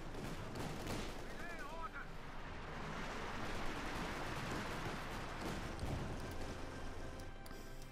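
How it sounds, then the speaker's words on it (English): Thompson submachine gun bursts from US Rangers in the World War II strategy game Company of Heroes 2, crackling continuously amid layered artillery and battle noise at a steady, dense level, with a commentator talking over the top. "These Rangers just tearing them apart there with the Thompsons."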